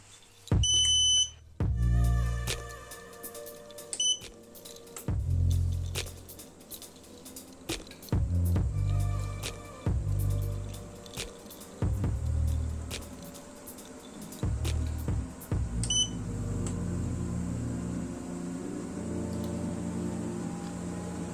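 A Redliro under-desk treadmill runs at its 7.5 mph top speed, with a steady motor whine and a rough running hum under repeated rhythmic thumps and bursts of rattling clatter, fairly quiet and continuous.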